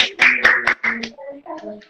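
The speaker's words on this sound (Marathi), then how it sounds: "सोनालीसाठी खूप खूप टाळ्या" Children clap for a student's story, a short burst of several loud close claps that thins into scattered quieter claps with a voice over them.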